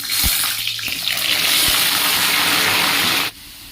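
Guri kochu (small taro) frying in hot oil in a kadai gives a loud, steady broadband hiss of bubbling oil with a few soft knocks. The hiss runs throughout and cuts off abruptly near the end.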